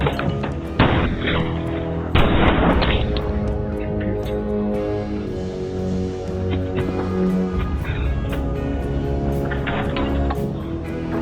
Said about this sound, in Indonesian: Dia menembak ke arah kolong rumah tepat saat Dugan sedang merangkak di dalam sana